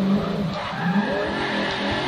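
A tuned car in the racing game Forza 6 drives with a steady engine drone and a hint of tire squeal, a continuous mid-level roar with no speech over it.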